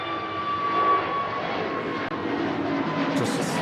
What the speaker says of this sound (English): It's EasyJet Neo off to Tel Aviv.